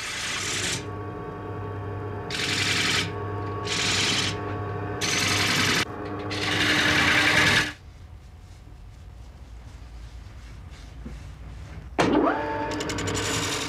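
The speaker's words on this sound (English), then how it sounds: "The wheel must be parted from the centre section with extreme care to prevent it from flying off while the lathe is turning." A wood lathe turns a spinning-wheel part for a traditional Irish spinning wheel as the wheel is parted from its centre section. A steady motor hum carries repeated loud bursts of tool cutting, then a quieter stretch and a sudden knock near the end.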